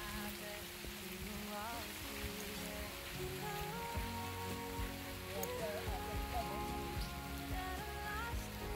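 Steady rain falls outdoors on a farm plot where pitaya seedlings are being set up, a constant soft patter filling the background while faint voices and sounds come and go.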